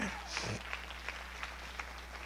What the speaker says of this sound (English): Give the Lord a good clap offering.